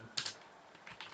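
Keys tapped on a computer keyboard while a command is typed during a Debian 7 server setup, a few soft clicks in two small clusters, faint and close with no talk.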